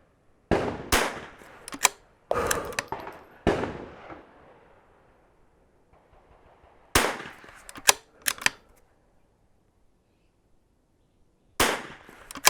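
Gunshots from a rifle at the West End Gun Club shooting range, sharp single cracks fired one at a time with pauses of several seconds, each shot echoing briefly before quiet.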